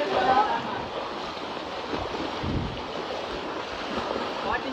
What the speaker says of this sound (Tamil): அதிக அளவு மழை பெய்து கொண்டிருக்கிறது